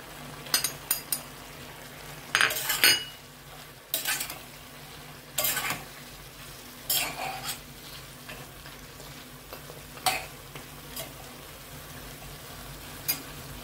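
Mustard seeds and spices are tempered in hot oil for ash gourd chalkumro sukto, with scattered scraping and clinking strokes of a spoon stirring in the pan and a faint sizzle between them, close but fairly quiet.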